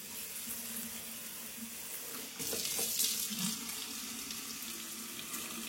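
A kitchen faucet runs in spray mode, a steady close hiss of water falling into a sink that grows slightly louder and brighter partway through, continuing alone without voices.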